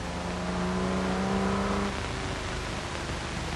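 A Jaguar racing car accelerates up toward Arnage, its engine note a loud, steady drone with a rising harmonic for about two seconds before settling into a rougher, continuous roar with wind noise throughout.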